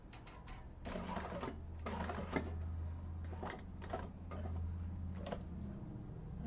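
A walking-foot sewing machine stitches through vinyl for a handbag, giving quiet bursts of rapid mechanical ticking with pauses between runs over a low steady motor hum.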